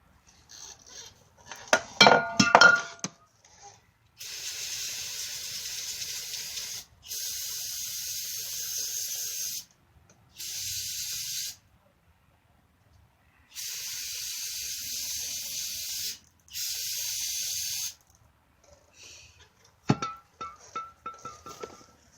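An engine oil strainer from a Honda, being repaired for a P2646 variable valve timing fault, is cleaned with several long, steady hissing spray bursts, framed by sharp metallic clinks and handling noises at the start and end, close up.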